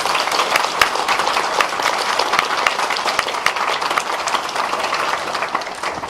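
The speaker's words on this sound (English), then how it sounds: "A big round of applause for them, please." Audience applause for speakers at a university postgraduate induction event, a loud dense sustained clapping that fills the whole stretch, with no talk over it.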